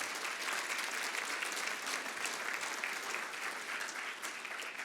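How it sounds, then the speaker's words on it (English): An audience at a mayor's State of the City address applauds steadily throughout, dense clapping from many hands with no talk over it. "I want to give the staff again a big round of applause"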